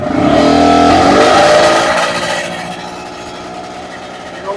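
An old snowmobile engine, found after sitting about four years, catches and revs loudly for a couple of seconds with a little choke, then drops to a steadier, quieter idle.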